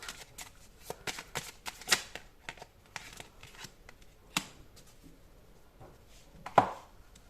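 Tarot cards are shuffled and drawn in a series of crisp riffling snaps and short slides, close by, with a sharper card flick near the end; no talking.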